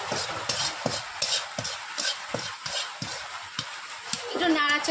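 Spiced potato chips are stirred and dry-fried in a pan, with repeated scraping strokes in a regular rhythm over a light sizzle.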